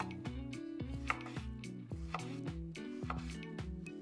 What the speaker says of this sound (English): I like to cut mine in half lengthwise, and then just chop.